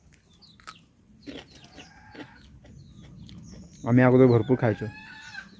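Chickens clucking near a tendli vine in a Sahyadri village garden, a few short clucks early on, then a burst of louder calls midway, with a person talking nearby.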